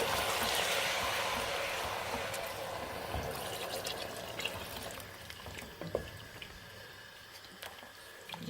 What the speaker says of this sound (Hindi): अब ये मैं इसमें यखनी ऐड कर रही हूँ जिसमें मैंने कॉर्नफ्लोर ऐड किया था।